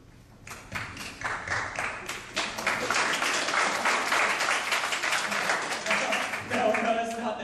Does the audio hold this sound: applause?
yes